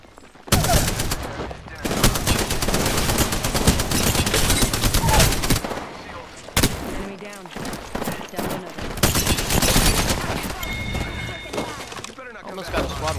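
Rapid automatic gunfire from a Spitfire light machine gun in an online shooter match, sustained loud bursts over several seconds mixed with game effects and excited talk from players.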